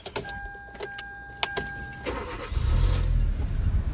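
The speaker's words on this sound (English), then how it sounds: "I change, and then come back, start my car." A 2011 Kia Soul engine cranks and catches after a fuse change: key clicks and a brief chime first, then a low rumble swells into a steady close idle.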